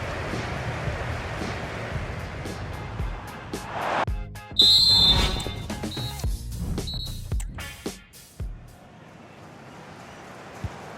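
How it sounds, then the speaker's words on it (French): A referee's whistle in a Tottenham versus Manchester United EFL Cup football match blows the end of the first half, a loud sustained shrill tone rising above steady crowd noise, with short follow-up toots. "l'arbitre qui siffle à l'instant la fin des 45 premières minutes"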